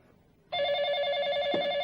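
Telephone bell ringing in a classic Indian TV serial: a sustained, loud electronic ring starts abruptly and continues steadily, alone without talk.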